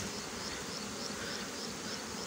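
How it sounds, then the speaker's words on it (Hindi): Honey bees buzz in a dense, continuous hum around an opened wooden hive box, a steady close swarm drone with no talk. "ये बच्चे ये देखें खान साहब, ये सारी मक्खी हैं"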